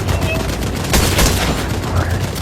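Gunfire in the Fortnite video game, rapid shots forming a dense volley that peaks in loud bursts near the middle, with voices talking over it.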